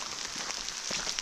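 Rain falling in Bunyip State Park, a dense steady patter of drops on surfaces nearby with a few louder individual taps.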